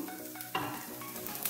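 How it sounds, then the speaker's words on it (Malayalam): Onions sautéing in a pan, a soft, steady sizzle with scraping stirs and a couple of sharper spatula strokes, close but fairly quiet. "ഈ ഉള്ളിയൊക്കെ നല്ലോണം വഴന്ന് വരുന്ന വരെ വഴറ്റി എടുക്കുക"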